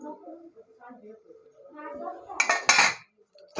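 Drumstick stalks go into a cooking pot of dal with potato and bean seeds, making a short burst of metallic clatter and clinks near the end, after a stretch of talking.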